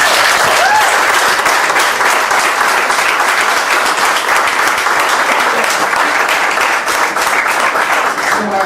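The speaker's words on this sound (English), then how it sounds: "let's give him a big round of applause" Loud, dense applause from an audience at an Eritrean community luncheon, steady and sustained for about nine seconds without a break.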